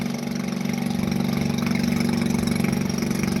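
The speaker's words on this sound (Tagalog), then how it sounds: "Hinihila ako ng bangka" A steady motorboat engine drones continuously at a constant pitch while towing, close and fairly loud, with no voices.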